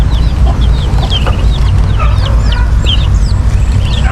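Young chicks peep constantly in their new coop, a dense, loud chorus of high rising and falling cheeps close by, over a steady low background hum.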